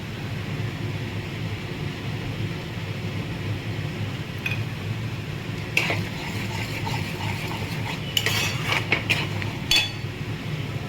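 A pan of frying masala for shahi butter paneer gives a steady low sizzle, with occasional sharp clinks and scrapes of a spoon stirring against the metal, no voices over it.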